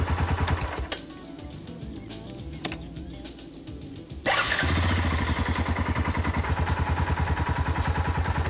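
A motorcycle engine warming up, its ignition switch flicked off and on: a steady running note cuts out briefly, then after about four seconds it catches again louder, settling into a fast, even, close throbbing idle.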